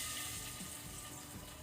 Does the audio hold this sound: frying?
yes